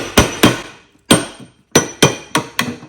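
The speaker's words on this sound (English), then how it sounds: "I'm gonna take a hammer and hit it right here." Sharp metallic hammer blows on a part of a John Deere D110 lawn tractor ring out close by, seven strikes in uneven bursts with brief pauses between them.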